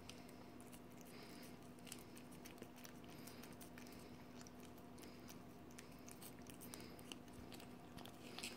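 Pet Yangpa chews a salty snack up close, with steady soft biting and crunching over a constant low hum, continuing through without any talk.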